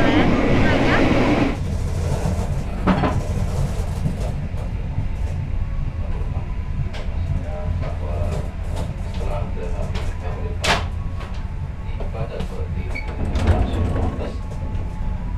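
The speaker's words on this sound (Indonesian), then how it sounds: "kereta api Kahuripan sudah tiba di stasiun Wates" Aboard the Kahuripan train arriving at Wates station at night, a steady low rumble and hum fills the carriage, broken by scattered clanks and knocks.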